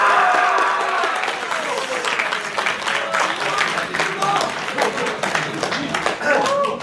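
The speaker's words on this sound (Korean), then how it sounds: "큰 박수로 맞이해 주시면 감사드리겠습니다." An audience at a small talk show applauds as guests walk onto the stage, with sustained, fairly close clapping lasting several seconds and voices mixed in beneath it.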